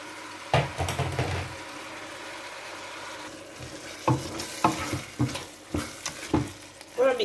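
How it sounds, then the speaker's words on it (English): Seasoning and tomato paste are stirred in a pot for coconut rice, with a soft sizzle under scraping stir strokes and several sharp knocks of the spoon against the pot, close by. "Stir everything together, and here I will be adding our tomato paste."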